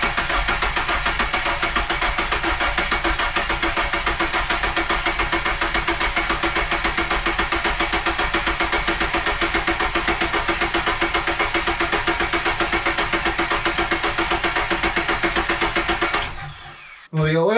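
A Subaru 4-cylinder engine on its first start after rebuild, cranking in a long continuous rhythmic churn that carries on loud and steady for about sixteen seconds, then cuts off abruptly.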